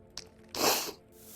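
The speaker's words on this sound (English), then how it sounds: "Cleaning spray. Need to clean out this magazine." A cleaning spray is applied to a rifle magazine in the video game Into the Radius: a short, loud hissing burst of about half a second, preceded by a faint click.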